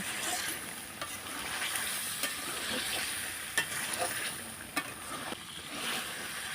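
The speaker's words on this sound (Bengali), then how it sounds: "5-7 মিনিট এটা পেঁপেটা মাংসের সাথে কষে নেব।" Chunks of raw papaya stir-fried with beef in a village kitchen, a steady soft sizzle with occasional scraping stirs and light knocks, close but fairly quiet, no voices.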